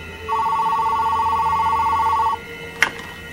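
A telephone rings for an incoming collect call with one steady, loud electronic ring tone lasting about two seconds, followed by a short sharp click as the line is picked up.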